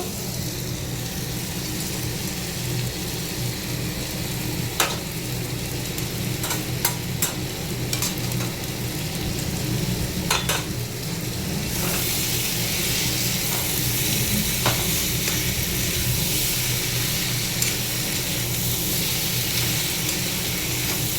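Cabbage with potato, fried fish head and peas frying in a pan, a constant loud sizzle and hiss with intermittent scraping stirs, growing brighter and more intense toward the end, no voices.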